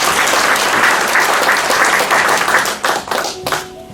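Audience applause at a Korean book concert talk event, loud dense clapping sustained for a few seconds before thinning out into scattered claps near the end.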